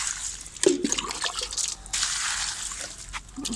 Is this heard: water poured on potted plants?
yes